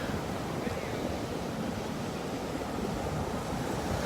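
Ocean surf breakers roll in at Pawleys Island on a summer morning, a dense, continuous roar of crashing water mixed with gusty wind buffeting the microphone, loud and steady throughout with no voices.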